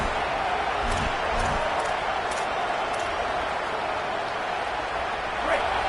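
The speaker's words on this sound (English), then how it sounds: "Decibels rising as the crowd gets behind this defense on third down." A stadium crowd at a football game roars on third down, a broad, steady wash of noise that fills the space with scattered sharper shouts, while a commentator talks over it.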